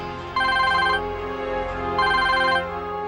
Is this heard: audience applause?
no